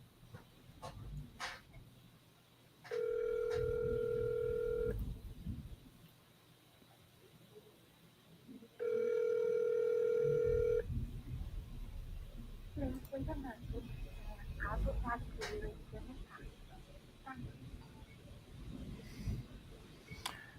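A telephone call placed on a business line, with two long steady ringback tones a few seconds apart, clear and electronic, between stretches of people talking in a room.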